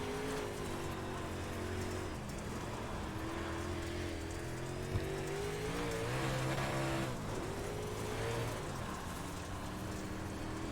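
A race car engine in a racing video game hums and climbs through rising and falling revs for several seconds, steady and fairly quiet, with a hiss like rain beneath it.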